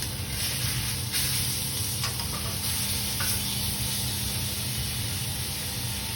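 Meat searing in a hot pan at about 180 degrees gives a loud, steady, close sizzle with a constant hiss, and no talking.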